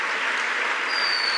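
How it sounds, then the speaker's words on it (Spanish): Applause for the Lord during a church service, a brief dense wash of many hands clapping from a congregation, steady and fairly loud without talk. "¿Cuántos le dan un aplauso fuertísimo al Señor por todo lo que va a hacer?"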